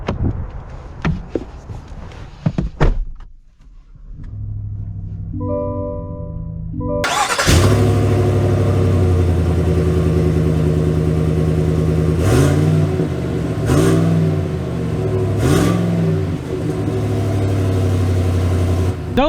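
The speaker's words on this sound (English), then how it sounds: "Let's take it out and see how it drives." A 2022 GMC Yukon SLE base-model SUV: a few clicks and a solid door thunk, then the engine starts and settles into a steady, loud hum as it pulls away, swelling with acceleration.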